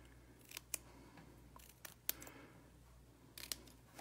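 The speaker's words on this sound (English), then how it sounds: "I'm going to bring in my paper snips and then just flag the end of both strips" Paper snips cut through strips of paper, making a handful of crisp, quiet snips in small clusters against a near-silent room with no talking.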